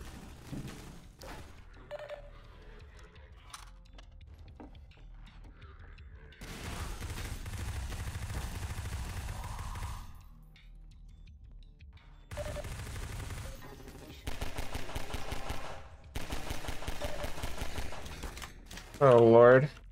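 Gunfire in the video game Amalgam, bursts of rapid shots and mechanical clatter in several loud stretches separated by quieter pauses, ending with a sharp ringing tone.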